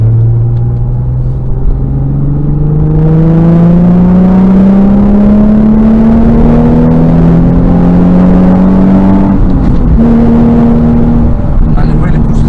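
A modified Nissan 350Z with a naturally aspirated engine accelerating on an open country road, its loud engine drone rising steadily in pitch through the gears with a brief shift, heard from inside the car.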